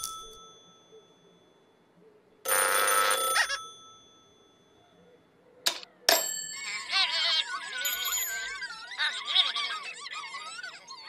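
An emergency telephone in an amusement park rings in a loud burst of bright bell tones, then falls silent before more chiming, tonal sounds follow.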